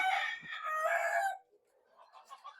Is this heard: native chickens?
yes